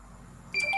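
Short electronic notification beep from a mobile phone during a board game night, a brief thin tone that cuts in near the end after a quiet room.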